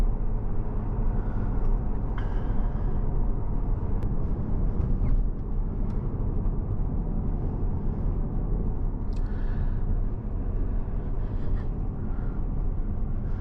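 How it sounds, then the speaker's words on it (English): A Ford S650 Mustang with a V8 engine and H-pipe exhaust heard while driving: a low, steady engine and exhaust rumble beneath road noise, continuous and moderately loud, no talking. "I like a little bit of volume with my V8."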